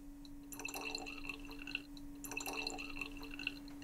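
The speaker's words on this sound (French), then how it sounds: "vous allez verser toute votre urine à l'intérieur de ce flacon" Urine is poured into a plastic sample bottle in two short, soft trickling bursts with a pause between them, faint and close over a steady low electrical hum.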